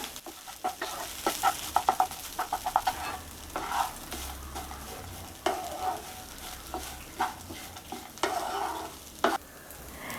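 Flattened rice (aval) snack mixture being stirred in a pan, with repeated scraping and clattering strokes at an irregular rhythm over a low sizzle, close and fairly loud, no talking.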